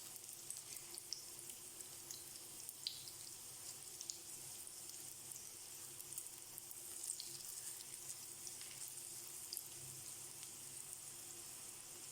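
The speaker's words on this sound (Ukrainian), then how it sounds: "Жаримо з обох сторін на середньому вогні до золотистого кольору." Steady frying sizzle of cabbage fritters in a pan over medium heat, with a soft crackle throughout, fairly quiet and even, with a low hum underneath and no talking.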